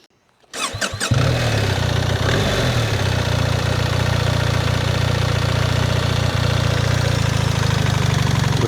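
A BMW R 1300 GS Adventure motorcycle engine cranks and fires up, then runs loud and steady at a rumbling idle, close by, with no talking.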